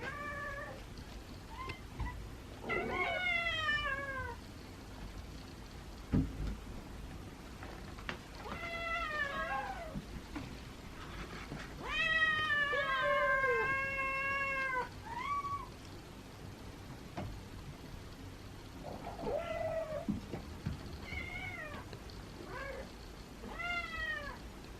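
Feral cats meow repeatedly in separate drawn-out bursts, some strained and wailing, spread across a quiet room with short pauses between calls.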